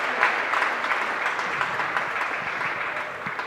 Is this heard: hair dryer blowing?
no